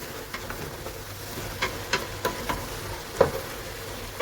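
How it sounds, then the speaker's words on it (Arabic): Onion softening and browning in a pan as filling for chicken briouats, a quiet steady sizzle broken by several distinct spatula scrapes and clacks, the sharpest near the end, close by with no voices. "كما كتشوفوا البصله بدات كتهبط، بدات كتشحر."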